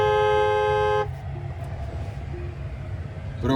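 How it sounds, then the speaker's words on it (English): A 2024 Tesla Cybertruck Foundation Series sounds its horn in one loud, steady, close blast lasting about a second, followed by quiet cabin hum and a short faint toot at the end. "I'll show you what the horn sounds like"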